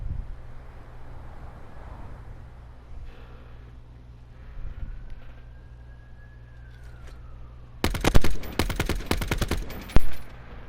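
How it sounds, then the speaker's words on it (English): Gunfire from weapons being tested in Black Ops 4 at a nighttime launch: a quiet windy stretch with a rising whine, then a loud rapid burst of automatic shots near the end and a final sharp report. "Testing out the guns"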